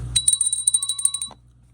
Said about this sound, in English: I think it's important that I ring the bell